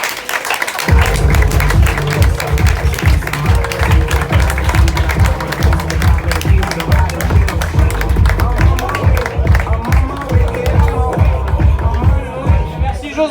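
A comedy-show audience bursts into loud, dense applause for José that starts abruptly and continues steadily, close and crowded, with brisk clapping and some cheering under scattered talk.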